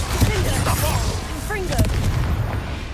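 Blasting-spell explosions in a video game, a run of rumbling booms and bursts going on nonstop beneath a voice speaking over them.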